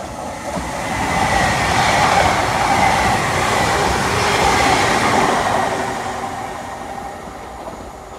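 TransPennine Express Class 397 train rolling through a station in Edinburgh, a steady loud rumble that swells and eases slightly, no voices.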